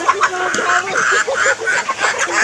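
Chickens cluck and squawk close by during feeding, a busy run of short, overlapping calls with a faint murmur of people in the background.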